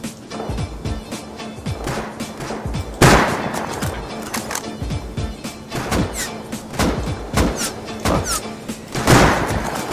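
Gunfire in the video game Rust, dense rapid shots and heavy thumps packed together over continuous loud game noise, with a few sharper bursts standing out, no talking.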